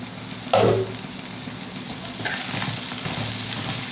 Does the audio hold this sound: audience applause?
no